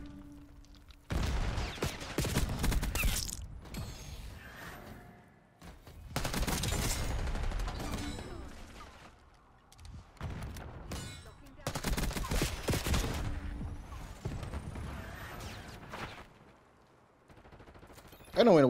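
Bursts of rapid automatic gunfire in Call of Duty Black Ops 6 multiplayer, four long loud volleys separated by brief pauses, crackling and booming up close.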